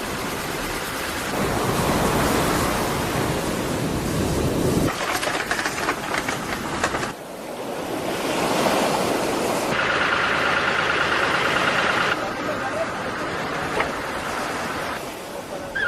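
Rough, warm surf crashes at a fishing beach on the El Salvador coast, a loud, sustained roar of breaking waves whose texture shifts from surge to surge for about sixteen seconds, with no speech.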